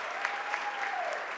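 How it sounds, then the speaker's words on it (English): Brief burst of audience applause for a mayor and her team at a press conference, a soft, even wash of clapping heard from a distance, with a faint tonal whistle running through it. "let's give our mayor and her team a real big round of applause"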